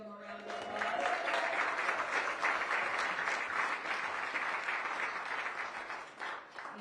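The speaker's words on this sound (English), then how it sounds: "Can we give them a round of applause?" An indoor crowd at a Los Angeles soccer event for the 2026 World Cup draw applauds community champions, with steady, dense clapping that holds for several seconds before tapering off.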